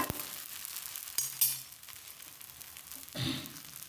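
A dosa frying in oil on a pan, oil brushed on top before it is flipped, gives a steady close sizzle with a few brief louder crackles and no voices.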